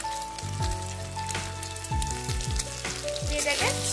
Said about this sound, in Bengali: এটাকে ভুর্জি মতো করে ভেজে নেব